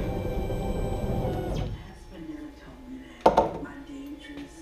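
A CNC carving machine jogged by joystick after finishing a trophy carve whines steadily and then stops, leaving a quiet hum, followed by a brief clattering knock near the end.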